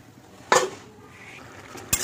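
A metal lid clanks down onto a cooking pot of alu posto, two sharp, close clatters with a soft simmer between them.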